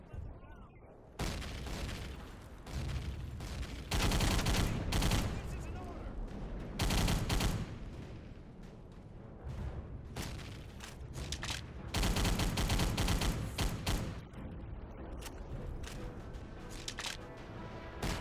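Thompson submachine gun fire in an Iwo Jima World War II shooter, with loud bursts of automatic fire in repeated volleys and dense gunfire and explosions all around for the whole stretch.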